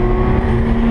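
A Porsche supercar engine hums loud and close with a steady, droning rumble and strong low tones, mixed with wind noise over a brief stretch.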